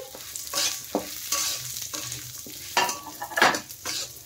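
Mung dal lentils fry in hot ghee in a wok while being stirred, a crackling sizzle broken by irregular scraping strokes of a spatula, close and fairly loud, with no talking.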